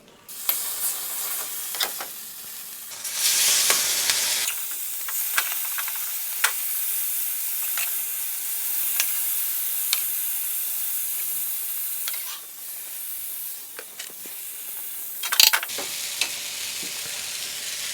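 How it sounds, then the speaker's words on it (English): Chicken curry sizzles and spits loudly on a hot sizzler plate, a steady frying hiss with scattered crackles and pops, swelling briefly near the start and again later. "look at that, sizzling away, lovely chicken curry"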